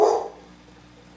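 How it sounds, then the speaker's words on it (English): A single loud dog bark right at the start, close by, then quiet room tone. "Sorry about my dog barking."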